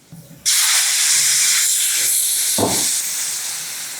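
Hot water poured into hot coriander-garlic masala in a triply steel kadai, bursting into a loud sustained steam hiss that starts abruptly and stays strong, with a brief clink partway through.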